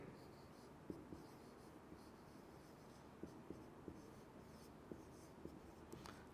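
A chemistry lecture board gets written on, producing faint, irregular taps and scratches of the pen or chalk, spaced a second or so apart, in a quiet room.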